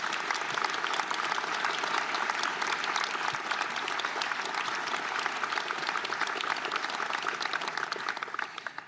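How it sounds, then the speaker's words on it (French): Sustained applause from a large audience during a French prime ministerial handover speech, dense, even clapping filling the whole stretch without talk over it. "on peut les applaudir."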